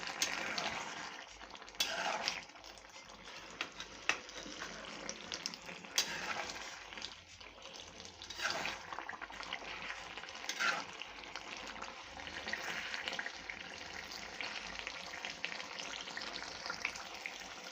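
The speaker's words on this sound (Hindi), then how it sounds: "अब ये 10-15 मिनट भूनेंगे। आंच हम हल्की रखेंगे और मुसलसल चम्मच हल्के हल्के हिलाते रहेंगे।" Potato and eggplant for aloo baingan sabzi frying in oil over low heat while a spoon stirs it: a steady soft sizzle with occasional scraping taps, close and continuous.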